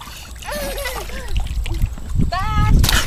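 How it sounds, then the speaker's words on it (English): A child splashing water in a pool, with sloshing and splatters building toward louder bursts near the end, under a voice talking and calling out. "Are you splashing?"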